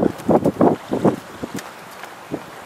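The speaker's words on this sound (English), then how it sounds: "It's like 15 knots of wind." Gusty wind of about 15 knots buffets the microphone on a sailboat near Buffalo, in rough, irregular bursts, loud and close, with brief lulls between the rumbling gusts.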